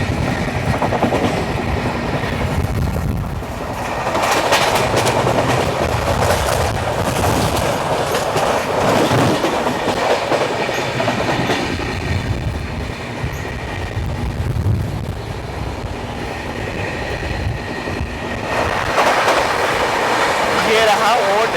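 From on board the Amritsar–Nanded Sachkhand Express as it overtakes the Manmad–Hazur Sahib Nanded passenger train and crosses the Guntur–Chhatrapati Sambhajinagar Express: a loud, continuous rumble with rhythmic wheel clatter and swelling rushes as the trains pass.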